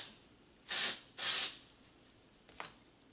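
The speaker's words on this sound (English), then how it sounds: "So I spray it actually onto my roots and just kind of work it into my hair." Texture hair spray hisses onto hair roots in two short, crisp bursts close by, followed by a faint third puff after soft rustling.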